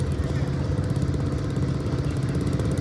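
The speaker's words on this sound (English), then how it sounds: "we got a tractor pull going on" An engine drones steadily and loud during a tractor pull at a tractor show, a continuous rumbling mid-pitched roar with voices faintly over it.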